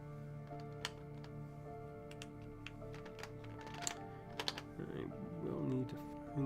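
Keys clatter on an Epomaker Tide49 mechanical keyboard with smooth keycaps, a fairly quiet, close patter of irregular clicks, with a brief voice near the end.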